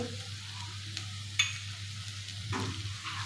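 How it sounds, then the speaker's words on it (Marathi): Dry chili powders and turmeric sautéing in a pan over a low flame, a quiet continuous sizzle broken by a few sharp scrapes of a stirring spoon, close up and without talk. "आता हे सर्व मसाले आपल्याला कमी गॅसवरतीच परतायचे आहेत"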